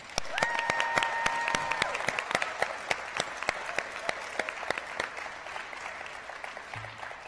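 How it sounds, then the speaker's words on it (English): An induction ceremony audience gives a round of applause to new members, a dense sustained clapping that starts loud and gradually thins toward the end, with sharp individual claps standing out near the microphone. "Now let's give a big round of applause for all of our new members."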